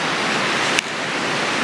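Steady broadband rush of a creek flowing near a campground in Pecos Canyon State Park, New Mexico, close and continuous with a brief click partway through.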